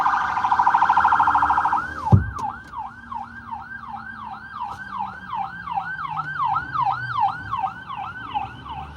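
An ambulance siren wails loud and close, starting with a rapid electronic yelp, then a sharp thump and a long run of rising and falling warbles that fade slightly as it passes, with traffic rumble beneath.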